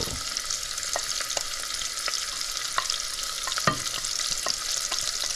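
Thyme and cilantro fry in four tablespoons of vegetable oil in a pot, a close, steady crackling sizzle broken by occasional sharp clicks and stirring taps, with no voices.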